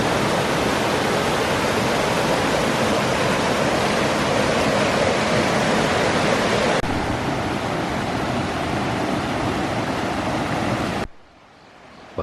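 A river flows beside a path near a Japanese onsen village, giving a loud, dense, steady rush of water that drops slightly partway through and then cuts off near the end.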